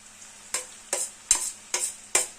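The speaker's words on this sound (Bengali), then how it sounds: "এবার এই সবজির সঙ্গে সব মশলাটা কষিয়ে নেব" Vegetables and ground spices (cumin, chili, coriander, ginger) are stirred and fried in a pan, heard as five sharp spatula scrapes at a steady rhythm over a quiet sizzle.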